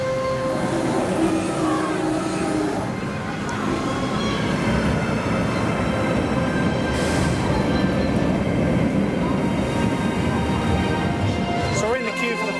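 A train of the Flight of the Pterosaur roller coaster at Paultons Park rumbles and rolls along its track in a steady, continuous roar, with people talking over it throughout.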